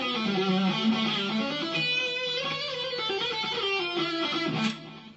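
A distorted electric guitar plays a sustained, expressive solo melody, with bent notes over a vamp, loud and steady with no voices, fading at the end.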